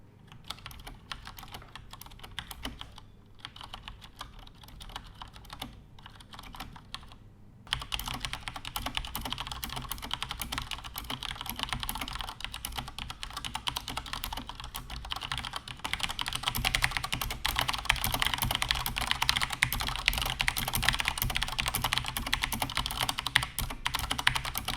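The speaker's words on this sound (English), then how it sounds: "I'll give you guys a typing test so you can get an idea of how this keyboard sounds" Mechanical typing on a Logitech G610 Orion keyboard with Cherry MX Brown switches, a dense steady patter of key clicks that starts soft and becomes louder and busier, close to a sensitive condenser microphone, with no voices.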